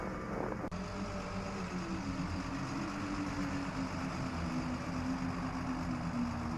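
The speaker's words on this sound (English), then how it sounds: "Sounds like an engine." A truck engine in a video game drones steadily as it approaches, a low continuous rumble with a rising tonal hum, preceded by a brief sharp sound at the start and no talking.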